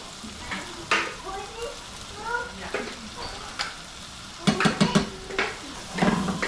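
Minced garlic goes into a chowder pot of frying onions, with a steady sizzle and bursts of spoon-stirring scrapes and pot clatter, close and moderately loud.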